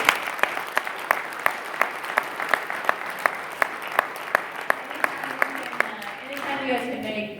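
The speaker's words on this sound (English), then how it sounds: "I think we should give Neil and Rana a round of applause" Sparse audience applause, a few hands clapping in a steady, even rhythm at moderate distance, fading as a voice begins speaking near the end.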